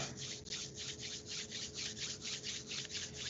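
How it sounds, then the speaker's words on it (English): Palms rubbing together briskly, a close, soft rhythmic swishing of about four strokes per second, steady and alone with no talk. "bringing your palms together, rubbing them"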